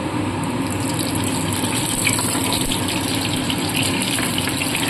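Ghee goes into hot white cooking oil in a pan, raising a loud, steady hissing sizzle that runs without pause.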